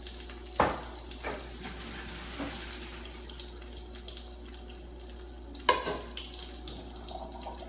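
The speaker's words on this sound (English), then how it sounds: "Pour them here and allow them to strain." Cooked macaroni noodles and their water pour into a strainer with a soft running, splashing flow, broken by two sharp clanks of the pot against metal.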